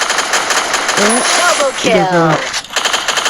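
Rapid automatic gunfire crackles loud and close throughout a Free Fire firefight, with bursts running over each other and a person talking over the shooting partway through.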